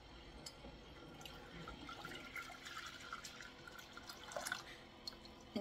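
Kombucha tea is poured back into a jar, giving a continuous, faint splashing and trickling of liquid with scattered drips, steady for several seconds without speech.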